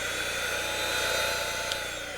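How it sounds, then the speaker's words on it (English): A Drill Doctor sharpener grinds a drill bit against its wheel, giving a steady whining hum with a fine abrasive hiss over a low motor drone, close and continuous, with a brief sharper tick near the end. "Let's sharpen again and listen carefully to the sound."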